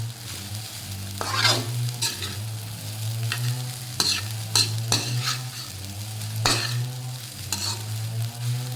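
Fish such as danggit and tulingan frying in a cooking pot, with a steady loud sizzle, a low hum and repeated sharp crackles and spatters throughout.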